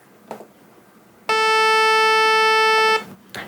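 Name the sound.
SynthEdit saw waveform beep from sound out module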